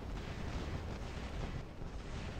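Gunfire from Cinder weapons in the War Robots mech battle game, a dense continuous roar of cannon fire and blasts that stays loud and unbroken throughout, with no pauses between the shots.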